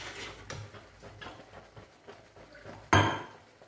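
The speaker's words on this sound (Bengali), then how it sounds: "এই অবস্থায় আমি তিল বাটাটা দিয়ে দিলাম।" Sesame paste goes into a pan of spices frying in oil, with soft scraping and clinks of a utensil against the pan, ending in one louder metallic clank near the end.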